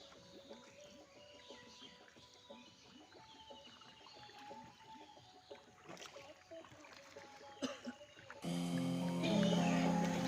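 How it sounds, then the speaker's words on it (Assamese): A small boat travels through floodwater in Assam, with faint water movement and distant bird calls, then a louder steady engine-like drone toward the end. "আজি নাও লৈ অফিচত যাম।"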